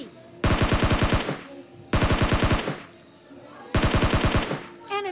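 SCAR-L rifle fire in PUBG Mobile Lite rings out in three loud, rapid automatic bursts, each about a second long and separated by short pauses, with no talking.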